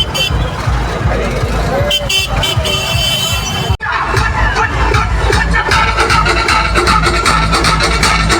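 A dense, loud crowd fills the street at a Ganpati immersion procession in Kolhapur, with blaring music, horn toots and vehicle noise mixed in and voices throughout.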